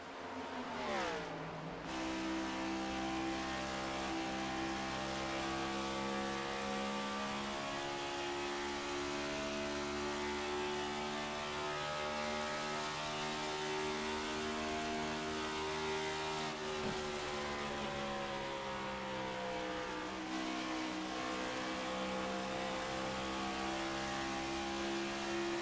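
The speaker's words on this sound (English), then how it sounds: "Hear Gary burping the throttle quite a bit." Race car engine at a concrete-floor short-track series race in Indianapolis, running loud and steady with repeated throttle blips and revving rises and dips throughout, close and continuous with no talk.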